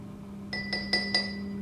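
Spoon clinking against a glass while stirring elderflower cordial topped up with water, four bright ringing taps spaced evenly over a steady low hum, close and clear with no talk.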